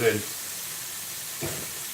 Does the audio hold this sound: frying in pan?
yes